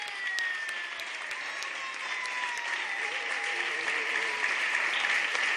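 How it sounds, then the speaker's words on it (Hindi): Congregation in a church service applauding together, a steady dense wash of clapping hands that holds evenly throughout, with faint tonal traces of instruments or voices underneath. "खुदा की महिमा की ताली बजा के।"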